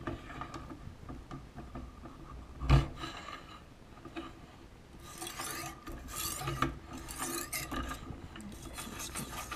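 A fillet knife sharpened on India stones, with close, dry rasping strokes scraping back and forth, a sharp knock early on, then a denser stretch of repeated grinding rubs.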